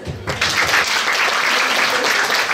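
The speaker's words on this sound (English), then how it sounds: "Please give her an applause." Audience applause breaking out after a brief pause, a sustained loud wash of clapping that continues to the end.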